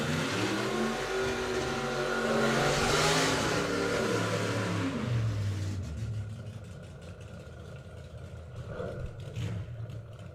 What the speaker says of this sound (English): Phil James down there with the Rampage funny car.